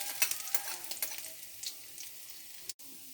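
Ginger sizzles in hot cooking oil in a pan, a close, crackling fry with small pops and stirring scrapes that fades toward the end.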